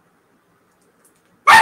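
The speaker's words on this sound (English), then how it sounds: "Excuse my dog." After near silence, an indoor dog lets out one sudden, loud, close bark right at the end.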